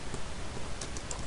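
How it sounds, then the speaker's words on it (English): Rapid keystrokes clatter on a computer keyboard in a short, close burst with soft irregular clicks. "I'll type some more."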